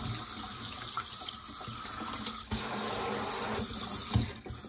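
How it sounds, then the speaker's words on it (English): A newly installed kitchen tap runs water into a sink, a steady close rush with slight shifts in flow and a brief clunk near the end, with no voices. "So that's the kitchen tap all installed."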